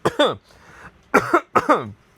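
Three bursts of harsh coughing, close and loud, separated by short quiet pauses with a faint throat sound between.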